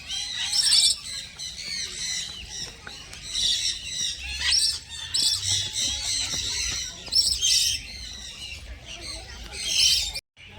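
Parrots at a bird house in Dharampur squawk and chirp loudly and almost continuously while being given juice, with the shrill calls coming in bursts close by.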